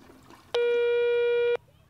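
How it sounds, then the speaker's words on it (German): A single steady telephone line tone lasting about a second, loud and clean against a quiet background, from an unanswered call in a Playmobil children's film. "bei dir geht zu Hause keiner ans Telefon"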